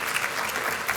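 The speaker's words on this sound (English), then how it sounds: "I'm going to use that applause" A community audience at a mental health forum applauds in a loud, dense wash of clapping that holds steady for the whole moment.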